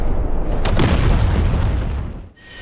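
Two 500-pound bombs from an A-4 Skyhawk explode in the DCS World flight simulator, a loud, close, rumbling boom that swells with a sharp burst and then fades into low roar.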